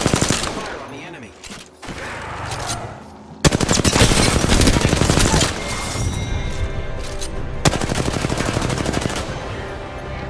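Rapid automatic gunfire from a firefight in Apex Legends, loud dense bursts of close rattling shots with brief pauses, a chaotic stretch of mixed impacts, then sustained volleys continuing to the end.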